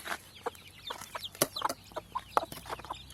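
Chickens, including mother hens, cluck in short scattered bursts close by, with soft intermittent calls and no speech.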